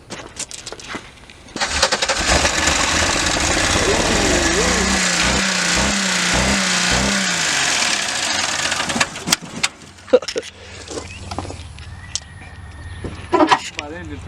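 A wrecked Chevrolet Impala under rebuild revs loudly with a steady roaring drone, a rhythmic pulsing in the middle as the throttle is worked, then cuts off leaving quieter background clatter and brief voices.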